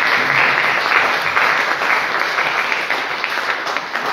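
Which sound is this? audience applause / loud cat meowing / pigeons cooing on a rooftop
audience applause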